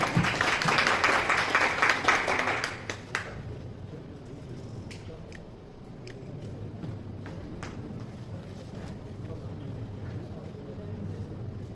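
Applause at a prize-giving ceremony, a dense burst of clapping for the first three seconds that breaks off sharply, leaving crowd murmur and scattered sounds beneath it.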